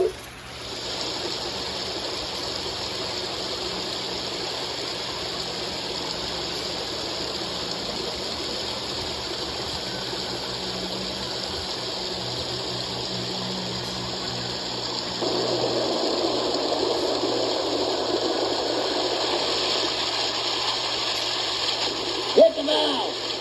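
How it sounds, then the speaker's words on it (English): Water gushes steadily into the tank of a steam locomotive on a small railroad, a constant rushing flow that grows louder partway through, with people talking nearby. "Every steam engine needs water."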